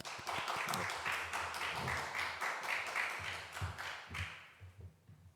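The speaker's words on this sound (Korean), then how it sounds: "우리 박수로 환영하겠습니다" Audience applause at a church missionary-talk gathering welcoming a missionary, a dense patter of many hands clapping close by with some sharper individual claps, thinning and fading toward the end.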